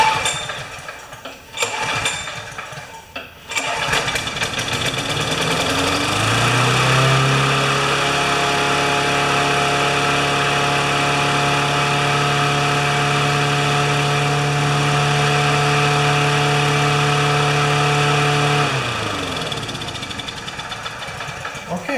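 A 20-inch Murray self-propelled lawn mower engine, primed with two-stroke fuel and running without a governor, sputters through a few rough tries, then catches and roars loudly at a steady pitch before winding down near the end.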